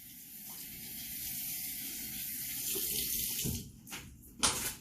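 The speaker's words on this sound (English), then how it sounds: "Just rinse them off." Tap water running over hands during a quick rinse, a steady close hiss of flowing water that surges and splashes near the end.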